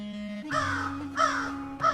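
Crows caw in an animated story, three loud harsh caws in steady succession, close and clear over a faint background tone.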